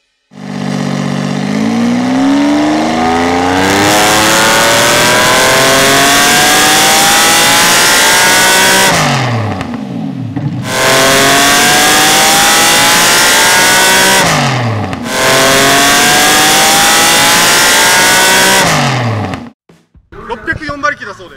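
A car engine of about 604 horsepower, with a rebuilt exhaust manifold, roars on a chassis dynamometer at a public power check event: three long, very loud full-throttle pulls that climb in pitch and cut off sharply.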